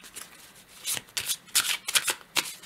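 Tarot cards are shuffled and drawn by hand in a series of crisp, fluttering riffles and slides, several quick bursts with short pauses between, close and clear with no talking.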